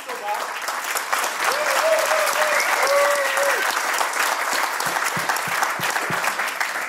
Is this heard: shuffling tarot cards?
no